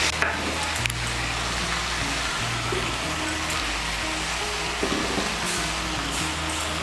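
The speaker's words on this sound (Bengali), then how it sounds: "নুন আর হলুদের গুঁড়োটাকে ভালো করে মিশিয়ে নেব" Ash gourd curry with salt and turmeric is stirred in a pan, a continuous close sizzle with occasional soft scrapes of the spoon and a low, steady hum underneath.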